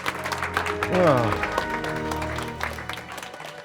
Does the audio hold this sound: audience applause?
yes